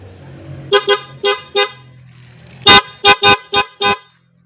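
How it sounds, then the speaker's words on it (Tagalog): A loud, bright snail horn on a Bajaj motorcycle honks in short bursts: four quick beeps, a pause, then five more blasts in a rapid, uneven pattern, close by. "nakabit na natin yung ating suso na busina syempre testing natin kung okay ba"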